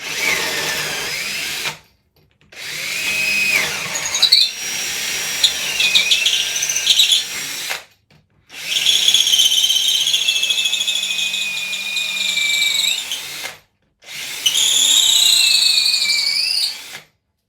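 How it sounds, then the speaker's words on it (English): A power drill whines and grinds through a wooden stair rail in three long bursts, separated by brief silences, loud and close with a high-pitched squeal. "So that's the hole drilled."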